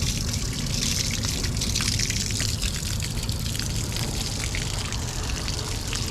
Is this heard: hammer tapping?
no